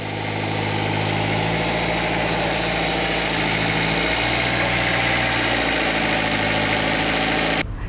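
A river ferry boat's engine idles near Ayutthaya, Thailand, a steady loud mid-to-low rumble with constant vibration and no speech, ending abruptly.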